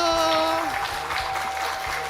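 A Sunday worship congregation in a Korean church claps to greet a newly formed cell group. Clapping fills the clip over a fading sustained tone at the start, with low background sounds underneath.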